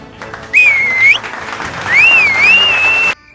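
An audience claps in welcome for a politician character in a comedy sketch, with shrill rising and falling whistles cutting through; two loud bursts separated by a brief lull, ending abruptly.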